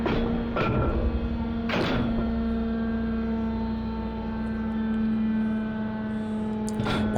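A heavy blast door at a maximum security base slides open after a button press: a loud steady mechanical hum with a strong tonal drone, punctuated by three sharp clanks near the start and end, no speech.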